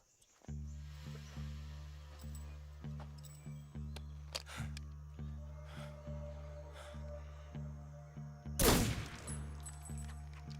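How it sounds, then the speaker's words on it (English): Repeated gunfire from Metal Gear Solid 3, a steady rhythmic volley of sharp reports over a low game hum, ending in a louder, bright burst near the end; no voices. "Ricocheting bullets."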